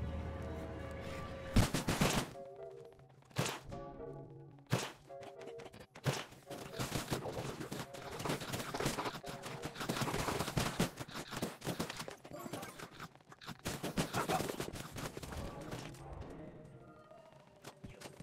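Repeated gunfire from many players' weapons in a Roblox game, coming in rapid bursts and scattered single shots with brief pauses, fairly loud and continuous across the stretch.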